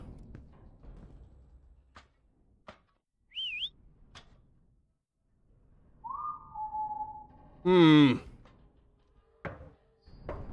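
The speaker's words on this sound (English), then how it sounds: "They're always whistling at me." Eerie whistling in the horror video game Lazaret: a few short, sliding whistle tones, one rising briefly and another longer and wavering, come from a quiet, sparse background broken by scattered knocks and clicks.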